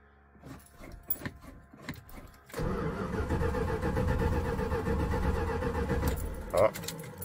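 A Dodge B300 camper van's engine cranks and catches after the fuel pump primes, settling into a loud, steady running rumble close by, preceded by keys jangling and a few clicks.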